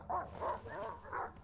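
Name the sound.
dog barking in Silent Hill Downpour video game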